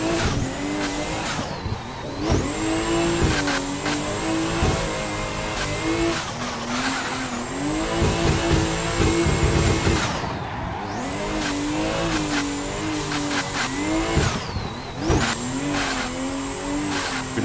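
A BMW drift car on a race track revs hard and accelerates, its engine note climbing and dropping through repeated bursts while tires squeal loudly and continuously, close and dominant with no talking.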